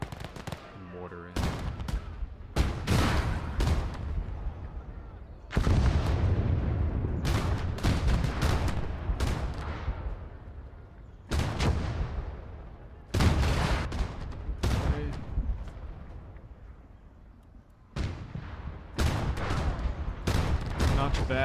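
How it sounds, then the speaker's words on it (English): Mortar rounds and explosions in the war game Gates of Hell crack out in sharp, loud bursts that come in uneven clusters, each blast trailing off into a rumbling decay before the next volley lands. "Mortar in."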